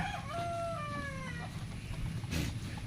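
A rooster crows once nearby on a goat and chicken farm, a drawn-out call standing out against quiet farmyard background noise.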